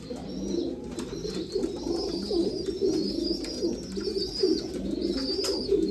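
Teddy pigeons coo steadily and close, a dense layer of overlapping low throaty rolls running without pause, with faint higher chirps drifting above and no talking.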